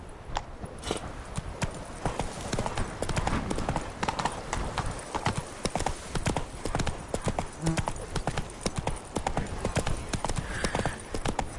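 Horse hooves clip-clop in a steady walking rhythm in The Witcher 3 video game, close and continuous, with faint game ambience beneath and no talk.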